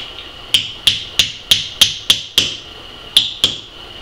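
Nine sharp hammer blows drive a nail into scrap wood on a floor, close and crisp with a ringing metallic ping, mostly evenly spaced with one short pause before the last two strikes.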